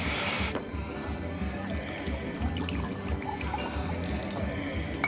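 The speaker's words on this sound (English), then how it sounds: "Can we pour me a drink?" A drink is poured in a steady liquid trickle over low, continuous background sound, with faint dripping and no speech.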